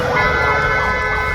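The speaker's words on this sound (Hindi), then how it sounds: "पुलिस की गाड़ी में बजने वाला हूटर ऐसे बजा रहे हैं" A police-style hooter siren blares on a street in Meerut, a loud, continuous wavering wail that runs steadily throughout with no talk over it.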